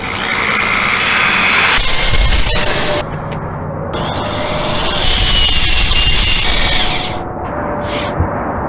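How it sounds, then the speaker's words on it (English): A power drill runs loudly and steadily, whining as it bores a pilot hole for a 1/2-inch hole in an RV, briefly easing off around the middle before revving back up, then stopping with a few short bursts. "Drilling a pilot hole to start this 1/2-inch wide hole I've got to make."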